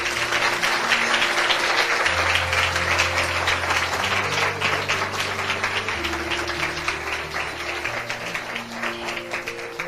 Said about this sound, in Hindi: चाहता हूं इस वचन के लिए हम जोरदार ताली बजाएं